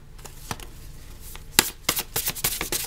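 Oracle cards shuffled by hand for a love reading, a run of crisp riffling taps and flicks that start sparse and build into a quick, busy burst near the end.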